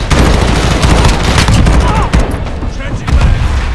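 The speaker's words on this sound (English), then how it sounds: "You actually feel like you're firing a gun instead of a toy." Loud, rapid gunfire bursts from the Call of Duty Modern Warfare beta, crackling in dense volleys with heavy booming impacts, easing slightly toward the end.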